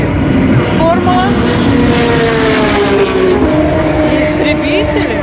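Formula 1 race cars roar at the Sochi circuit, a loud continuous engine whine with rising and falling pitch as cars pass, heard from trackside with voices mixed in.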